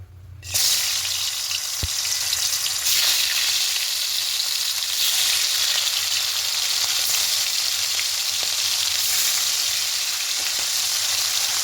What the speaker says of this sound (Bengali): মাছগুলো দিয়ে একটু ভালো করে ভেজে নিচ্ছি